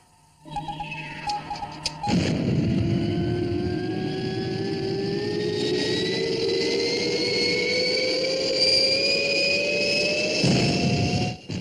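Spacecraft XL1 lifting off its launch rail in a Fireball XL5 TV sound effect: a brief buildup, then a loud, sustained engine roar with a whine that climbs steadily in pitch for about nine seconds before cutting off.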